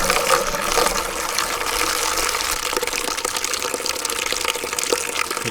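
Water gushes steadily out of a Sluice Goose Goldrop gold-recovery trap after its valve is opened, a continuous broadband rushing and splashing drain that stays loud and even throughout.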